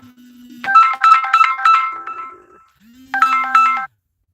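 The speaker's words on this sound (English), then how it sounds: "the phone just keep ringing" An electronic phone ringtone plays a warbling melodic burst, pauses briefly, then rings again, loud and close.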